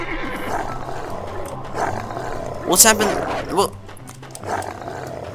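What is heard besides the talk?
wolf attacking a horse in Roblox video game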